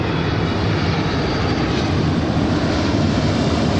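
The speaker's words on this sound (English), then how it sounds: "We do have a flight coming in, which I don't know what it is." An airliner coming in to land at Seattle airport gives a loud, steady engine roar that stays broad and unbroken throughout.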